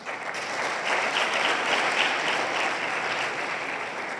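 Sustained applause from an audience honouring students and their teachers at a ceremony, a dense, steady crowd of clapping holding at an even level throughout.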